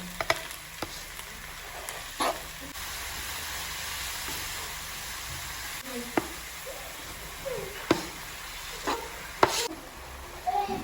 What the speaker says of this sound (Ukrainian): поки в мене смажаться гриби